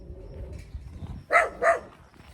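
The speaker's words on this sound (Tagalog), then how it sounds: "Tapang ng aso." A dog gives two sharp, loud barks in quick succession, standing out over faint background noise.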